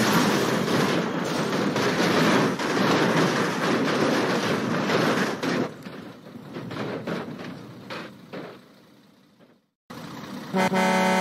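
A train rumbles past in an escape room video game, a loud continuous roar of wheels and cars that fades after several seconds, drops out briefly, then returns with a horn-like toot.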